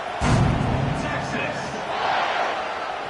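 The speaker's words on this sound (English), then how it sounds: "this crowd is buzzing after that last score" A dense, steady roar of a crowd buzzing in the stands at an American football game just after a touchdown, filling the whole stretch at a moderate level with a slight swell near the start.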